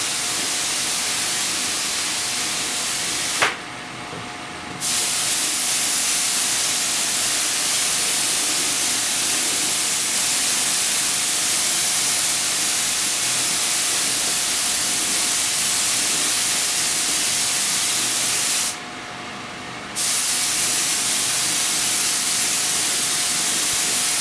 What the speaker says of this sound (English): I'm spraying using 30 pounds of pressure, and we're just going to put it on there